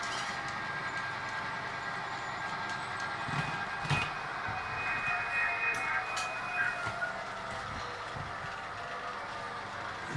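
HO scale model train running on a layout, a continuous faint rumble of wheels and motor with occasional clicks and clacks over track joints, moderately distant and steady throughout.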